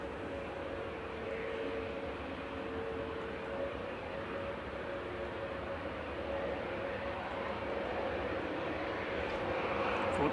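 A large airliner jet at Manchester Airport, heard as a steady, fairly distant engine roar with a sustained tonal whine that builds slightly louder toward the end, with no talk over it.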